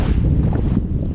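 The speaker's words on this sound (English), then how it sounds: "The wind has also picked up a bit." Wind gusting across a riverbank on the Blackwater estuary at Bradwell, a steady broadband rush and rumble buffeting the microphone for the whole moment, with no voices.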